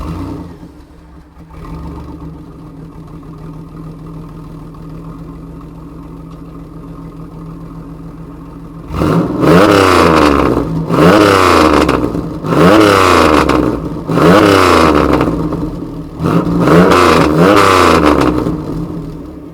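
A classic Chevrolet Camaro with a 3.8 V6 and shorty exhaust headers idles with a low raspy burble, then revs hard in four or five loud, close bursts that rise and fall.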